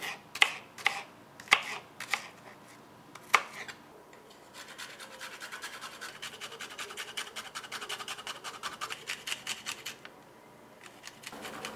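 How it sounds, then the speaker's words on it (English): Tomato and onion are chopped on a board. A few sharp separate knife strikes come first, then a quick even run of cuts, close and fairly quiet, with no talk. "cut up the tomato and the onion"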